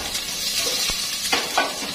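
Onion sizzles in a pan of hot oil that already holds garlic, the start of a crab dish: a steady frying hiss with a few sharp stirring clicks near the end.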